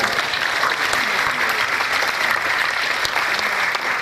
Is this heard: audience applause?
yes